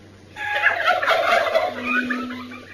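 Turkeys gobble on a small turkey farm, a burst of overlapping gobbles and warbling calls from several birds nearby, rolling on for about two seconds over a low background hum.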